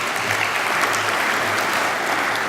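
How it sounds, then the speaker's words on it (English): Dense, continuous applause from a conference audience, a loud, even wash of many hands clapping together with no pauses. "I've given my conference chair long enough to come out and take applause."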